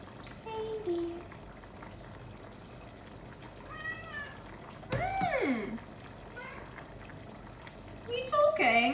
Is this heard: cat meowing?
yes